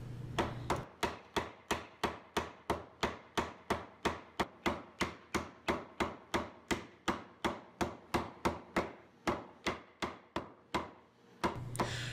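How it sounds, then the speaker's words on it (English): Mallet tapping glued wooden box joints of an interlocking wall shelf into place: a steady run of about thirty sharp, evenly spaced knocks, close and clear, with no talk. "with glue, they need a little bit more persuasion with the mallet"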